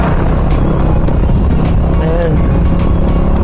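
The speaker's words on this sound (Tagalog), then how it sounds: "bibilis ng mga sasakyan dito" Cars and motorcycles rushing along the winding mountain highway of Suyo Road, a steady loud engine and road roar close by with a passing vehicle's rising whine, over constant wind buffeting.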